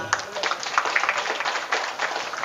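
Scattered applause from a sermon congregation patters steadily for a couple of seconds, moderately loud, with no voices over it.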